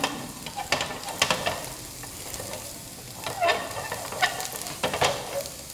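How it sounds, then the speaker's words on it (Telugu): Paneer fries in hot oil with a steady close sizzle, broken by several sharp clinks and scrapes of stirring. "లైట్గా గోల్డెన్ కలర్ వచ్చేలాగా ఫ్రై చేసుకోవాలి మనం"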